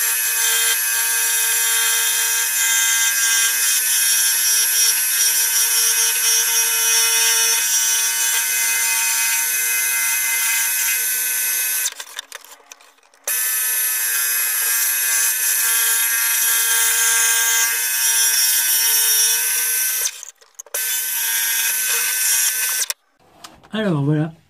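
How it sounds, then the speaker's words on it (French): A scroll saw cuts sound holes into the wooden lid of a cigar box ukulele, giving a loud, steady, close buzzing whine that runs on and stops briefly twice before resuming. "j'ai fait des trous déjà pour pouvoir passer la lame de la scie à chantonner et on va découper les ouïes"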